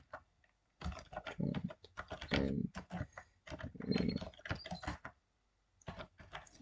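Typing on a computer keyboard while editing a web page document, bursts of rapid close key clicks with short pauses between runs.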